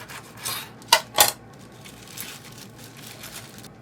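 A knife cutting through a chicken Bihari boti roll, with soft rustling scrapes of wrap and two brief sharp crunching cuts close by, followed by quieter shuffling handling sounds.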